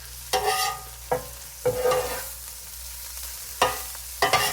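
Velveeta cheese being stirred into chorizo frying in a pan, with a steady sizzle broken by five or six scraping stirs of the spoon, close and moderately loud, with no talking.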